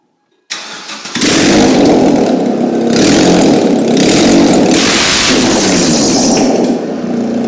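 A car engine with its exhaust removed cranks and catches, then revs loudly and steadily close by, a harsh, raw roar that holds for several seconds with no talking.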